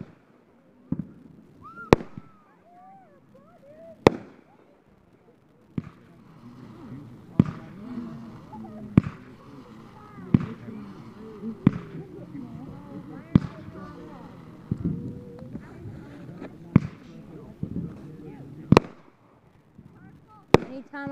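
Fireworks go off in a series of sharp, isolated bangs and pops, roughly a dozen spaced a second or two apart, some loud and close, with people talking in between.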